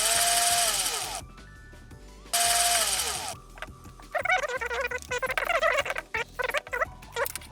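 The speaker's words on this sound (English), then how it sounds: "There are some screws I'm going to open with my screwdriver." A powered screwdriver backs screws out of a headset during a repair: two whirring bursts about a second each, followed by lighter clicks and rattles of small parts, close-up and quiet, with no speech.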